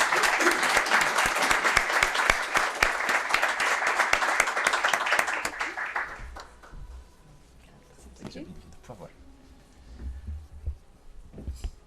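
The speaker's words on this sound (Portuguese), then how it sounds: "Uma salva de palmas" Room applause at a formal tax council panel session, even clapping for about six seconds that stops abruptly, followed by quiet room noise and faint low thumps.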